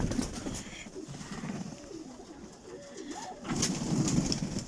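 Hard-winged flying pigeons coo steadily in the background, soft and close, with rustling and a louder burst of activity near the end, and no talk.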